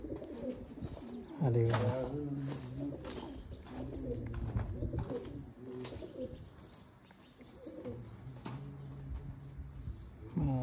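Teddy pigeons coo in repeated low, rolling phrases at close range, interleaved with someone talking and some handling clatter throughout.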